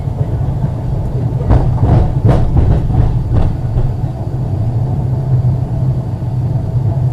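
A tram running along its rails, a loud steady low rumble with a burst of rattling and clacking in the early seconds, then settling into a continuous drone.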